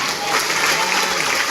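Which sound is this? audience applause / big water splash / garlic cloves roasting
audience applause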